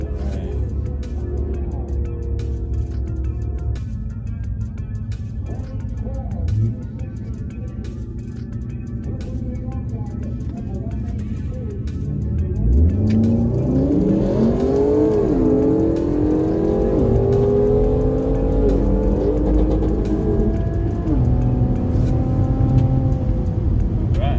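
Q60 and Camaro SS cars on a drag strip: a steady engine drone and burnout, then a loud revving launch with engine pitch climbing through gear shifts, close and continuous throughout.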